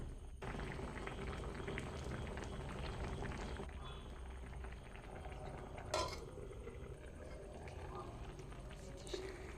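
Tapioca and small sardines simmer in a pot with curry leaves, a steady bubbling boil with occasional clinks of a utensil against the vessel and one sharper knock partway through.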